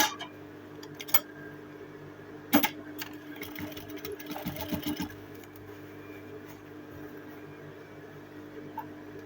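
A sewing machine gathers Ankara fabric for a ball dress, running as a steady, fairly quiet mechanical whir with a few brief louder knocks near the start. No one talks.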